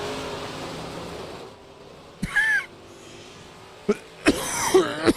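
Two or three short, sharp coughs break a quiet background, the last ones bunched close together near the end.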